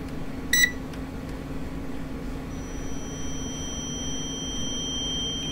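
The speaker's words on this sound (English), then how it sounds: "What's beeping?" A single short electronic beep in the horror video game Parasocial by Chilla's Art, heard once near the start over a steady low ambient hum, then a faint tone continues.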